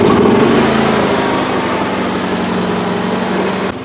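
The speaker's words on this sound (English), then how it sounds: "So now I am going to turn on the generator." Portable emergency generator already running loud and close, a dense steady engine drone with rough buzzing vibration throughout, easing slightly at the end; no starting pull or voices heard.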